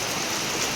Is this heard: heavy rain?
yes